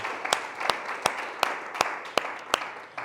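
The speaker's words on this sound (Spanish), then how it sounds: "Voy a darle un fuerte aplauso a Cristo Jesús" A church congregation claps in slow unison, sharp regular hand claps roughly every third of a second apart, over a bed of murmuring crowd noise.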